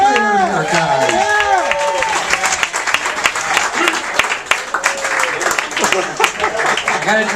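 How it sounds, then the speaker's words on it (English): Comedy club audience applauds and cheers for comedian Pete Lee, dense clapping with crowd voices and whoops layered over it, loud and sustained throughout. "Clap it up, let's go for Pete Lee."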